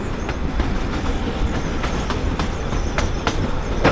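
A narrow-gauge passenger train on the Bilimora–Waghai line rolls steadily along the rails with a continuous rumble and a rhythmic clickety-clack of wheels over joints, fairly close.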